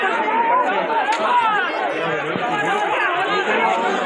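Dense crowd chatter at an Independence Day fair (15 August) with stalls selling clothes and cookware, many overlapping voices close by and continuous with no pauses.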